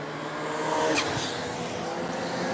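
Race cars roar past on a New Smyrna oval track, a continuous loud engine drone with a brief tire squeal and passing whine near the middle.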